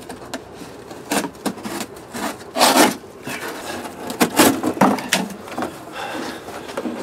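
Cardboard box being handled and torn for blocking off part of a car radiator: dry scraping, rubbing and crinkling bursts in an uneven rhythm, fairly close and moderately loud, with no talking.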